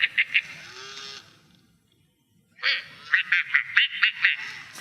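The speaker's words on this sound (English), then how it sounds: "If you ever wondered how an angry duck sounds, this is how it sounds." A robotic toy duck gives angry electronic quacks: a short burst of three, a pause, then a longer fast string of harsh quacks, loud and close, with no talk over them.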